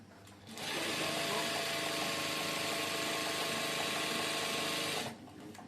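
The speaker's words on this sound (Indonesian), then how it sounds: "Ini atasnya kita tinggal jahit." Sewing machine stitching the top edge of a fabric Quran cover: a loud, steady mechanical whir that starts abruptly and runs evenly for about four and a half seconds before stopping.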